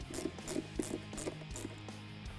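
Hand ratchet snugging a hose clamp on the silicone cold air intake tube of a 2015-2017 Ford Mustang GT, a rapid series of close, crisp clicks in steady rhythm throughout, with no talking.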